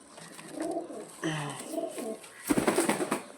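Pigeons of several fancy breeds coo in soft, repeated low phrases, with a louder burst of calls and wing or body rustle near the end, close by and without talk.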